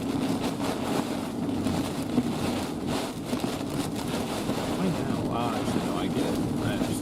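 Strong gusty wind buffets the microphone during a chase of a violent wedge tornado near Lake City, Arkansas, a loud continuous roar with surging gusts throughout.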